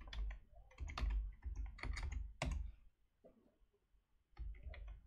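Close, crisp computer-keyboard typing as a new asset number is entered: quick bursts of key clicks, a brief pause, then a final short flurry of keystrokes, with no talking.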